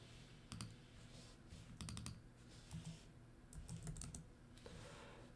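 Faint typing on a computer keyboard comes in short bursts of quick clicks separated by pauses, with a low background hum in the room.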